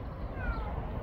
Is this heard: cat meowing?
yes